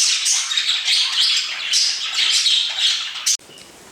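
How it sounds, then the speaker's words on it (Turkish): An injured young seagull cries continuously and loudly up close, a rasping, insistent squawking in repeated pulses that cuts off abruptly near the end. "Evet yavru kuş."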